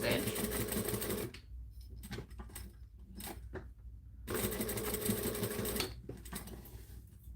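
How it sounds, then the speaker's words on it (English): Sewing machine stitching and back stitching a strip of Velcro, running in steady rapid bursts with short pauses between passes, close and fairly loud. "I'm just going to place it down, stitch, back stitch"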